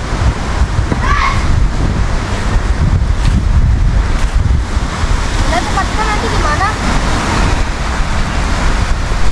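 Waves rolling and breaking on Anyer beach amid gusty wind noise, a constant loud wash with a few faint chirps.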